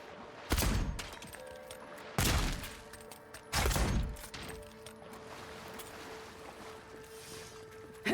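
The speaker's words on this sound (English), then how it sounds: "Shooting them doesn't do anything" Gunfire in the fantasy video game Avowed: three loud, sharp blasts spaced about a second and a half apart, each with a short booming tail, then a lower steady ambience with a few faint clicks.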